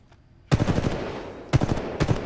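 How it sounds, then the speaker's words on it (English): Gunfire in the video game Titanfall 2: sharp loud bursts of rapid automatic shots, one burst after a brief quiet lead-in, then two more short bursts about half a second apart. "I feel like the gunshots are like loud as fuck"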